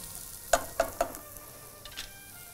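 Ingredients for a palmyra tuber dish sauté in a pan with a soft background sizzle, broken by three quick spatula taps and a couple of fainter clinks.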